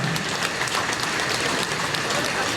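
An audience claps in a steady, dense wash of applause at a Tamil talk event. The clapping is close and fairly loud and holds evenly throughout.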